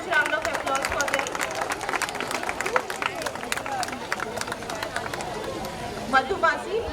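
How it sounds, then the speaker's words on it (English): Parents applaud at a school annual day prize distribution, steady clapping from a crowd blended with chatter and background talk. "Parents, please give a huge round of applause for them."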